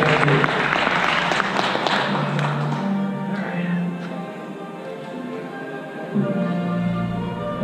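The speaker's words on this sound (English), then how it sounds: "One more round of applause for that, please." An audience at a Star Trek Online panel at the 2018 Star Trek Las Vegas convention applauds loudly at first, the clapping thinning out over several seconds while faint voices and a low hum continue.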